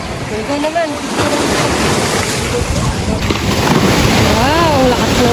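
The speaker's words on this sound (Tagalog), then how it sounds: "Wow, ang lakas ng alon." Strong high-tide ocean waves at a beach in Pangasinan surge and roll in a steady, loud wash under heavy wind buffeting, with people's voices and shouts rising over the surf.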